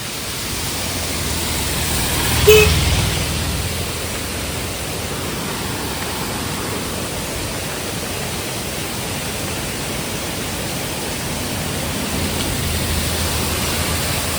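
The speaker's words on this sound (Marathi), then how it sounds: "इथे जे धबधबे आहेत तर ते पाणी हे बघा इथून खालून जातं आहे" Near Revas Bandar, waterfalls pour down in a loud, constant roar of rushing water, with a brief knock or thump early on and no talking.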